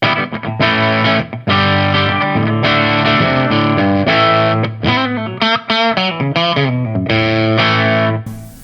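Electric guitar through a Truetone Route 66 overdrive pedal playing chunky rhythm chords with a gritty, saturated tone, loud and continuous, no voices.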